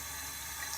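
Tap water runs steadily into a cupped hand at a bathroom sink, a continuous close hiss of splashing with no speech.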